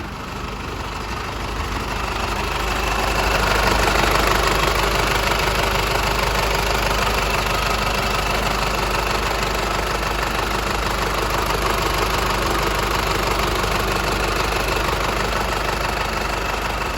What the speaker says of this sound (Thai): คันนี้จะได้เครื่องยนต์โตโยต้านะคะ